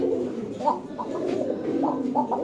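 Pigeons, including an Arabian breed offered for sale at a pigeon market, coo in soft, low, repeated throaty calls, close by and continuous, with faint background chatter.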